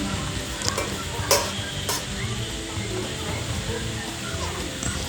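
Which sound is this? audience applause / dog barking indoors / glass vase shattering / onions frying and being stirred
onions frying and being stirred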